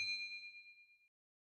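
A bright notification bell rings once, struck sharply and left to shimmer and fade over about a second before cutting off, alone and fairly quiet.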